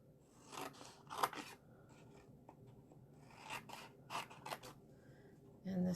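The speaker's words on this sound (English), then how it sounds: "we trim out the flap and cut up to the score line" Scissors snip through a paper gift box, trimming out a flap and cutting up to the score line; several short, quiet rasping cuts come in scattered bursts at close range, faint against a soft room background.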